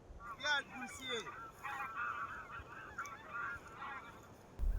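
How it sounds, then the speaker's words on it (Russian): Several geese honk in overlapping bursts, a busy flock calling at moderate distance, with quiet background and no clear talking. "Нашел гуся! 5 гусей!"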